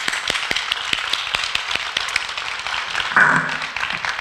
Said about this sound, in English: Let's have another round of applause for our 2025 Covert Avenue graduates.